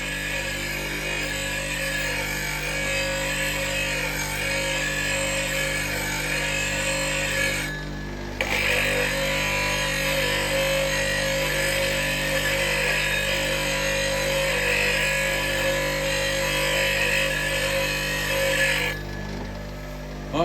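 A bench grinder whines steadily and loudly as a woodturning bowl gouge is sharpened in handmade wooden jigs, the tone briefly dropping twice as the tool lifts off the wheel.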